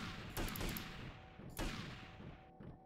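Gunfire in GTA: Vice City, two loud, sharp shots about a second apart with short echoing tails, followed by a fainter pop near the end, with no one talking.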